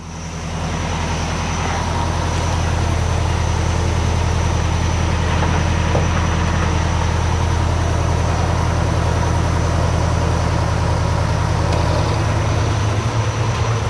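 An International Scout truck with no brakes and a faulty cylinder starts up and runs, its engine settling into a loud, steady, rough drone close by as it pulls away, no talking heard.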